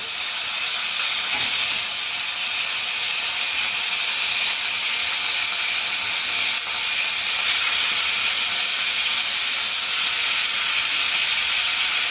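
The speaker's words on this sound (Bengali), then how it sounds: "এখন আমি মাছগুলো ভেজে নেবো অল্প করে" Rohu fish pieces frying in smoking-hot oil for a simple fish curry, giving a loud, steady, unbroken sizzle and hiss that holds for the whole stretch with no voices.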